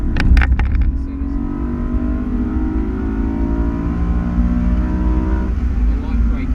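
A car lapping a race track at a track school brakes and then accelerates, its engine note rising steadily under a driver's spoken coaching, loud and close from inside the car.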